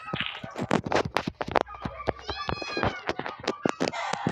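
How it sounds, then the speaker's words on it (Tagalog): A cat meows repeatedly in the video game Minecraft, a run of short, clear, tonal mews in steady succession, close and fairly loud, mixed with light tapping footstep sounds. "May pusa."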